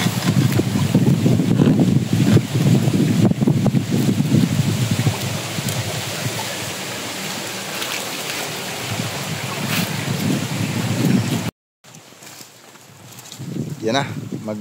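An engine-driven water pump draws irrigation water on a calamansi farm, its steady drone running under outdoor wind noise while people talk over it before a brief cutoff.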